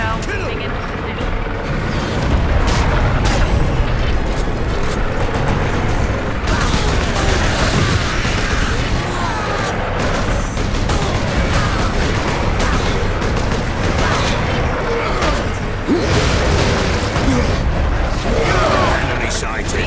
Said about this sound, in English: Incoming! Artillery shell moving into position.